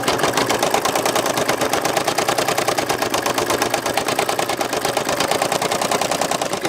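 An embroidery machine sews a placement stitch on a leather luggage tag, a steady rapid mechanical chatter running loud and continuous throughout without talk.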